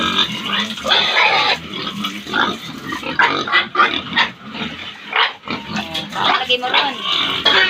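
A farm pig on a rural smallholding grunts and squeals in repeated close, loud bursts, with people talking in between.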